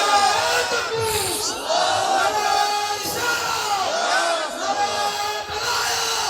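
A crowd at a Ramadan sermon roars a Takbir response, many voices shouting together in loud sustained swells that rise and fall across the clip.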